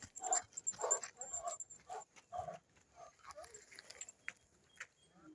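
A dog whimpers and whines in a run of short, close, uneven cries that fade toward the end, with no talk.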